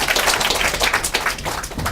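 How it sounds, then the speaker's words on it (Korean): Applause from a university lecture audience after a student group presentation, a dense, steady patter of many hands clapping close by for the whole stretch, with no talking. "큰 박수."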